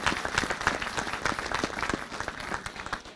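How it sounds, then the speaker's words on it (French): An audience at a mayor's New Year ceremony in Charleville-Mézières applauds its municipal staff, a steady wash of many hands clapping at moderate volume, dense and continuous before tapering off at the end. "Merci d'applaudir nos agents qui se dévouent pour la ville de Charleville-Mézières et pour l'agglomération."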